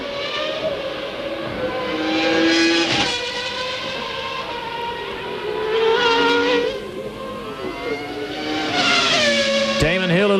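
Formula One cars at the 1995 Australian Grand Prix pass with rising and falling high-revving engine whines, several cars sweeping by in waves under a race commentator talking.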